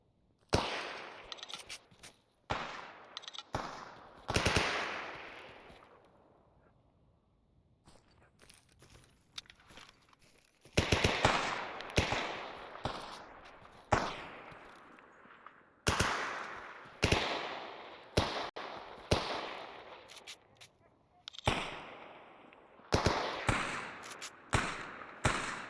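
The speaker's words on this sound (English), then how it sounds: "What are you guys shooting at?" Bursts of gunfire from the video game Stalker Anomaly crack out in repeated rapid volleys with pauses between them, sharp and fairly close.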